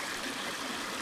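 A forest stream in the Olympic National Forest pours over a little waterfall, making a steady close hiss of rushing water with no pauses or voices.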